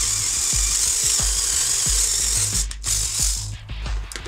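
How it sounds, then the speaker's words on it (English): A drill boring a hole through a tricopter frame gives a steady high whine with repeated low ratcheting clicks, running continuously and close by, then breaking into short bursts near the end. "let's drill a hole"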